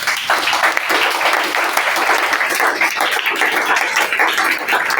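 A church congregation breaks into loud, sustained applause to acclaim the Lord, dense steady clapping filling the room with a few voices cheering underneath.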